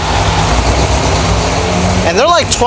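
A vehicle engine idles with a steady low rumble throughout, and a rising-falling whine or chirp cuts in briefly near the end.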